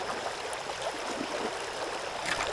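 A clear stream flows in a steady, soft broadband wash, close by and fairly quiet, with faint gurgles and no talking.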